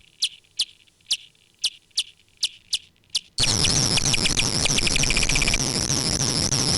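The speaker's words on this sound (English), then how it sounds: "We study tiger moths, and the cool thing about this animal is it really goes berserk when it hears the bat." Tiger moths respond to bat calls: a series of sharp, evenly spaced high clicks, then a dense, loud burst of rapid clicking and buzzing as the moths sound off together.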